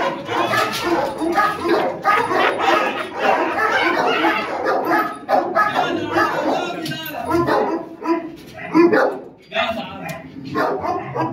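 A dog barks repeatedly, loud and close, its barks mixed with excited human voices talking and laughing around it.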